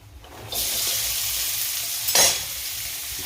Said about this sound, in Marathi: आता या तेलामध्ये कांदा परतवायचा त्याला झटपट असा कांदा आपण परतून घेणार आहे